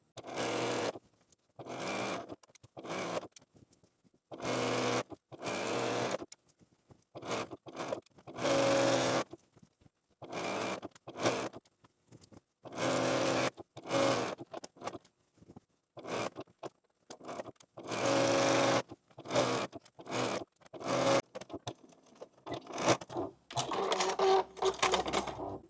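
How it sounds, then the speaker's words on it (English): Sewing machine joining rows of a cat-pattern tessellating quilt, a quiet, close whirring in many short, uneven bursts with frequent stops. "now we can just sew"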